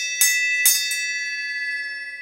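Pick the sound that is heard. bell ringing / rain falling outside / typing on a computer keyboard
bell ringing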